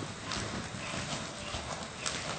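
A horse cantering in a riding arena, its hoofbeats a steady rhythmic drumming on soft footing, moderately close and continuous.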